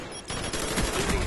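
Galil assault rifle firing in Call of Duty Black Ops, with a dense run of loud, close automatic shots rattling continuously through the moment.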